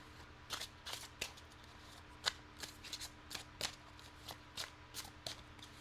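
Tarot cards are shuffled close by in a series of quick, crisp riffling bursts at a fairly regular pace, soft and without talking.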